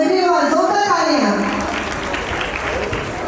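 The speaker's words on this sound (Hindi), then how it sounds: "Please everyone, a big round of applause." Applause from the audience at a school annual day rises as a dense, fairly loud clatter of clapping, while a voice over a microphone speaks at the start before the clapping carries on alone.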